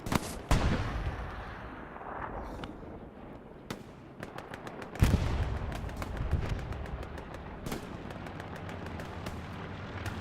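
Gunfire in Hell Let Loose, a WWII shooter game, with rapid bursts and single sharp shots, loud and near, plus heavier booms and echoing rattles of distant battle throughout.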